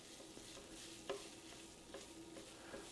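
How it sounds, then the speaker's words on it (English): Soft, steady sizzling of sausages frying in a pan, with small pops and crackles, quiet and close. "I love the sound of sausage sizzling."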